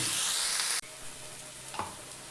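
Safflower greens being fried and turned in a pan, a loud close hiss that drops abruptly to a quieter sizzle, with a brief scrape of a utensil near the end.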